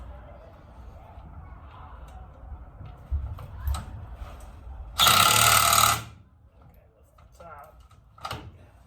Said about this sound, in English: I think I could get my wrench in there, my impact driver